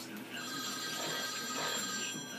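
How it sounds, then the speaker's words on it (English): A telephone rings with a steady electronic bell tone indoors at a home, fairly faint, with voices talking in the background. "Somebody get that phone."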